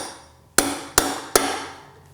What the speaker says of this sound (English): we'll just take a punch and a hammer